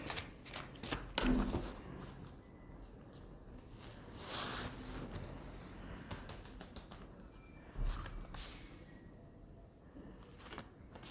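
Tarot cards are shuffled and drawn by hand, giving soft riffling, flicks and slaps of card stock in uneven bursts, fairly close and quiet.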